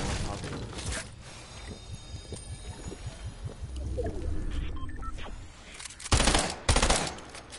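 Rapid gunfire from a gun in Fortnite, a stuttering burst of repeated shots with mechanical clatter, then louder heavy blasts near the end, over continuous game noise.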